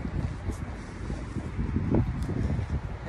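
Wind in a sandstorm that carries thick dust buffets the microphone, a continuous rough rumble with gusty swells, heard alone and close.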